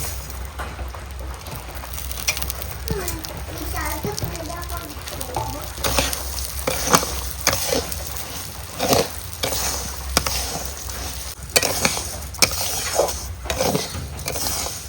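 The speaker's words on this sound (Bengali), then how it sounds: "আমি চাল ভেজে নেবো" Rice for khichuri frying in ghee in a wok, a steady soft sizzle with scraping stirs and occasional clanks of the utensil against the pan, while a person talks over it.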